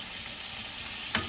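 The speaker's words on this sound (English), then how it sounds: "Y'all hear that sizzle?" Mustard-coated chicken pieces fry in a hot pan for fried chicken, giving a steady soft sizzle throughout, with a brief faint clink near the end.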